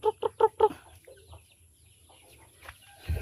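A hen clucks four times in quick, rhythmic succession close by, followed by faint scattered peeps from chicks against a quiet outdoor background.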